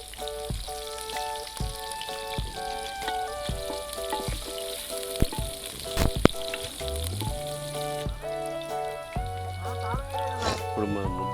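Onions sizzling in hot oil for a fish curry, a continuous crackling fry heard close with occasional pops and clinks, while a voice talks over parts of it.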